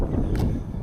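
Outdoors on a walk, wind buffets the microphone with a loud, steady low rumble that fills the whole moment and has a brief gusty flutter partway through.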